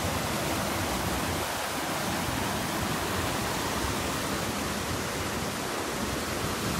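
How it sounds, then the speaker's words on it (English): A waterfall along the Knife River Trail roars in a steady, dense wash of rushing water that fills the whole stretch evenly and loudly, with no voices over it. "Super cool waterfall."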